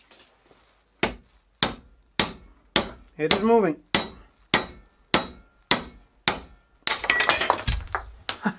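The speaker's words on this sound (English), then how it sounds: "Let's find out what a hammer can do." Hammer striking an old bicycle bottom bracket to knock it out, about a dozen sharp ringing metallic blows at a steady pace, close and loud, with a brief scraping sound between and a short spoken remark.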